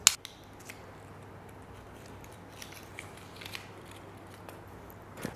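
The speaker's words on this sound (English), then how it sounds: "The way to remove it is just to cut it." Foil on the neck of a wine bottle being cut during restaurant decanting service, heard as quiet close crisp snips and crackles, one sharp click at the start and a few soft scratches after, with no talking.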